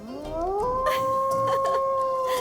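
A man imitates a jackal howling, holding one long rising then steady wailing tone up close, with faint rustling underneath.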